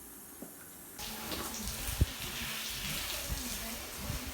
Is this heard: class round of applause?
no